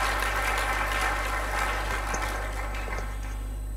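Audience applause at an opening ceremony: dense, steady clapping from a crowd fills the whole stretch over a constant low electrical hum, fairly loud and continuous without a clear break.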